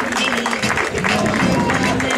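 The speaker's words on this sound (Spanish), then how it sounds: "Ese fortísimo aplauso vamos a seguir recibiendo." Sustained applause from a crowd at a popular running race in Carballedo in 2018, steady clapping throughout, with an announcer speaking over it.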